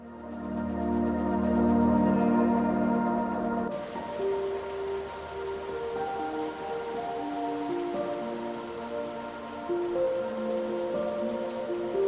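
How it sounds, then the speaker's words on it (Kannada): Rain falls steadily during a bamboo trek in Meghalaya, pattering close by on surfaces as a continuous wash with faint tonal sounds underneath. "ಬಂತು ಮಳೆ ಬಂತು."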